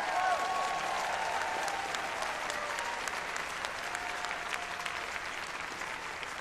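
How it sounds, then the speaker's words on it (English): A large assembly audience at a 2019 Unitarian Universalist general session applauds the technical crew, a dense, steady wash of many hands clapping that stays loud throughout and tapers slightly toward the end. "can we give a big round of applause to the tech deck who's staying a little bit late for us?"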